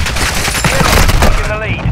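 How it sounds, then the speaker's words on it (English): Grenade blast and bursts of rapid gunfire in Call of Duty Modern Warfare 2 multiplayer, loud and dense throughout, with a voice speaking briefly over the shooting. "Throwing grenade."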